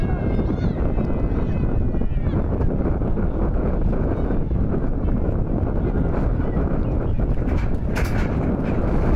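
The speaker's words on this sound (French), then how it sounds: "mais toujours un vent vraiment violent" Strong wind buffets the microphone in a constant loud roar at an outdoor youth football tournament stadium in Manduel, with faint voices under it.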